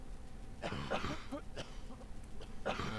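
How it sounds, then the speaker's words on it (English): Several short, rough coughs from a voice or two in the VBS 4 simulation game, contaminated civilians, spaced irregularly across a few seconds against a low background hum. "you will notice that they start coughing"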